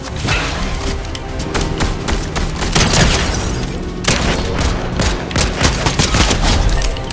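Gunfire in the Fortnite video game, rapid loud bursts of shots in quick succession with booming impacts, dense and continuous over a short stretch.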